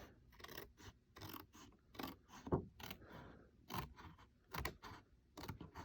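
Christmas paper being trimmed by about an eighth of an inch: quiet, close, intermittent rasping snips and scratchy strokes in short bursts with small pauses between them.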